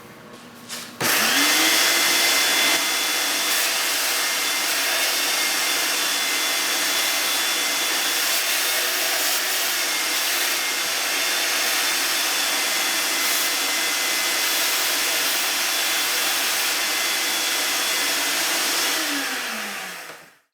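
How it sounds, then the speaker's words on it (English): A loud, steady shop vacuum whine starts abruptly, sucking brass shavings out of a Saab Sonett engine, runs continuously at close range for about eighteen seconds, then winds down and stops. "now it's time to vacuum a little bit of the brass shavings out"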